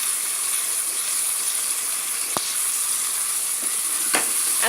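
Food with onion chutney sizzling in a pan, a constant hissing fry broken by two or three brief clacks of a utensil, with no one talking.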